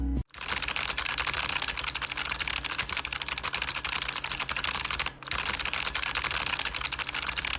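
Rapid, continuous keyboard mashing from a computer keyboard during Knytt Stories play, dense clicking with one brief pause near the start and another about two-thirds through, close and loud, no voices.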